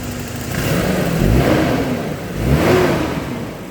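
Motorcycle engine running smoothly without misfiring after a starter motor check, revved twice in rising and falling swells over a steady idle, close by with no talk.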